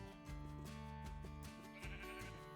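Sheep in a video game village bleat faintly in a few wavering, repeated calls, quiet and alone with no talk.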